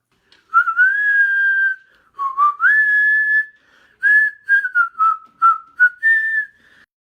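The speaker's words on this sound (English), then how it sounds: "They're just pretty good whistlers." Someone whistles a melody, clear sustained notes with a few quicker short phrases in between, close and alone with no talking.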